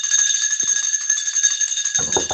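A steady electric bell rings continuously in an old-time Sherlock Holmes radio drama, a bright insistent metallic trill held throughout, with a short burst of voice cutting in at the end.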